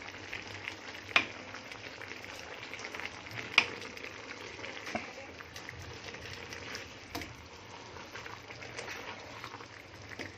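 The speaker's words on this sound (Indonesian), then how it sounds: "Kita aduk sampai rata." Chicken woku bubbling and frying in a pan while being stirred, a soft continuous sizzle broken by a few light clinks and scrapes of the utensil, fairly quiet.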